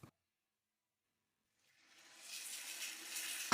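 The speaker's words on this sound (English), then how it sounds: "as long as you hear this sound of boiling water, it's not ready yet" Water in a covered pan of steaming gyoza gradually builds into a bubbling, hissing boil, fading in from near silence and becoming a steady sizzling rush by the end.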